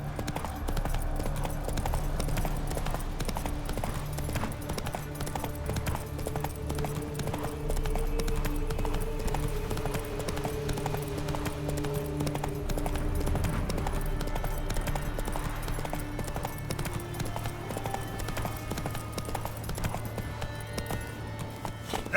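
Hooves of Roach, a horse in The Witcher 3, clip-clop in a fast, steady rhythm as she gallops, close and continuous over low ambient game music.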